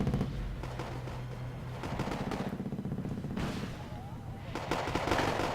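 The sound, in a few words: Flak Panther anti-aircraft gunfire in Wargame AirLand Battle video game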